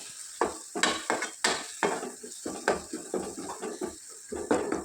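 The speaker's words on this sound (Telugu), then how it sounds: "ధనియాల పొడి అలాగే జీరా పౌడరు పసుపు ఇవి కూడా వేసి తాలింపులో బాగా వేయించుకోవాలి" Coriander powder, cumin powder and turmeric are stirred into sizzling tempering oil in a pan, with a spoon scraping and clinking against metal in irregular, close strokes over a faint background fry.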